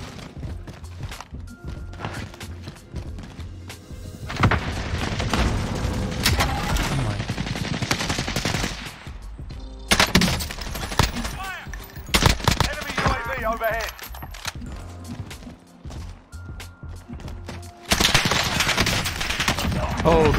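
Rapid gunfire in Warzone, with dense bursts of automatic shots and sharp single cracks coming in waves across the whole stretch, loud and close, broken by short quieter gaps and layered with game effects.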